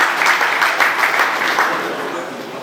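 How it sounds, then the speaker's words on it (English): An audience at the grand finale of a teaching reality TV show breaks into loud, dense applause that stays strong and then slowly fades, with voices mixed in beneath the clapping. "Another round of applause"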